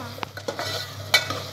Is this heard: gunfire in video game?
no